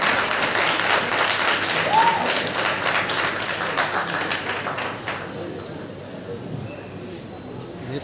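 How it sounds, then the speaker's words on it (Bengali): A school audience claps for the principal at a ceremony, with a dense round of applause that fades toward the end as a voice speaks over it. "আমাদের অধ্যক্ষ জনাব শামিমা ইয়াসমিন আপার জন্য জোরে করতালি আশা করছি।"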